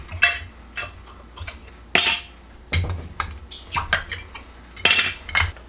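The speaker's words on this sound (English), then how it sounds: "Get these lids off." Metal lids clink and tap as they come off glass canning jars of homemade corn relish, a run of short, bright clatters and knocks close by, irregular and separated by brief pauses.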